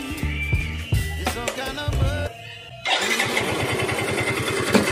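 A Yamaha Mio i 125 motor scooter engine, after an overhaul, sputters and idles unevenly, then settles into a louder, steady running rumble close by, with a persistent noise from inside the engine.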